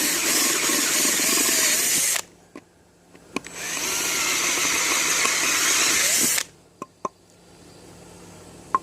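A power drill bores a hole through a Kydex sheath in two loud, steady bursts of a few seconds each, with a short pause between them and faint clicks and handling knocks afterward.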